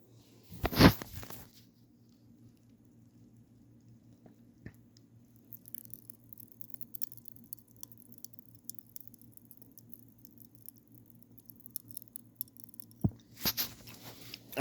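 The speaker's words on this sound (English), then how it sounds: "That is the sound of the popping candies as they are popping in my mouth." Popping candy crackling in a mouth while chewing a Coca-Cola Oreo, faint scattered tiny pops and crackles, close and quiet, between louder chewing or handling bursts at the start and end.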